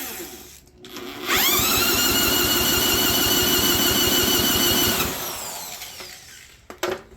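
A starter cranks a long-neglected, compression-release engine with a compression tester fitted. It gives a loud, close, steady whirring whine with rapid rhythmic chugging pulses for about four seconds, then winds down.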